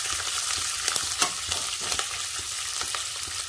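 Green chillies frying in hot oil in a pan while being stirred for raw mango rice: a dense continuous sizzle with frequent small spoon clicks and scrapes, close and steady, no voices.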